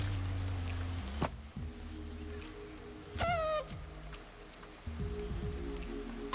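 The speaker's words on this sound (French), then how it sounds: "Nous ne nous attendions pas à autant de pluie ici." Steady rain patters down across a video game landscape, a continuous broadband hiss that fills the whole stretch, with brief chirping tones and low thuds surfacing midway.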